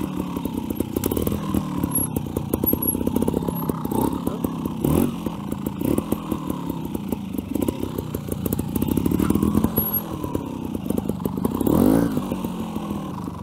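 Trials motorcycle ridden in first gear, its engine putting out a close, choppy low rumble with rhythmic throttle pulses and a rising rev near the end, with no talk.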